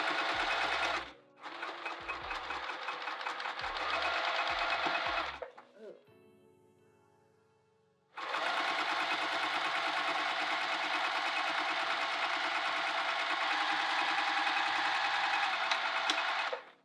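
Sewing machine stitching a handbag runs in two long bursts, a steady close whirring hum with a brief pause and slowdown between them.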